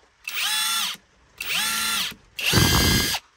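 A Hercules Gen II 3/8 inch impact wrench whines through three separate loud bursts of about a second each, the last one hammering as the impact mechanism engages, with nothing else around it.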